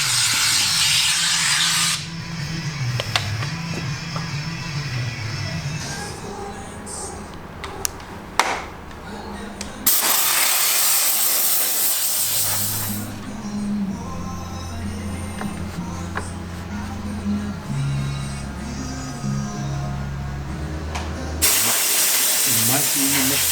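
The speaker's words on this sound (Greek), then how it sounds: "Με τον ατμό που καθαρίζουν τα πάντα" A steam cleaner hisses in loud, spraying bursts over a BMW R1200 RT motorcycle during a wash and detailing, with pauses, clanks and tool knocks between jets and someone talking intermittently underneath.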